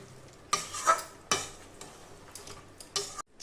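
Baked chicken pieces stirred and sautéed in a pan for a masala, with a few sharp utensil scrapes against the pan over a low sizzle, fairly close and without talk.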